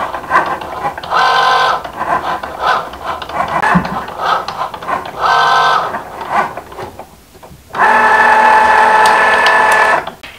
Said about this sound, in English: I'm just going to place this in my Cricut Joy Extra. It's going to make sure that it has enough space. And now I just click go.